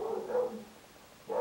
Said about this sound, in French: Il est fou ce chien.